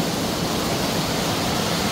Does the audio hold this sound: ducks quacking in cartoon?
no